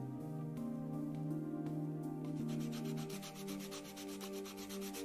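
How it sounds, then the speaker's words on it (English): Repeated rubbing strokes of a sanding block and sandpaper on a toy under repair in a video game, rhythmic rasping over a steady tonal music bed, no talk. "Gotta do some sandpaper stuff here."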